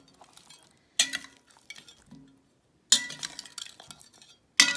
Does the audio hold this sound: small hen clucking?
no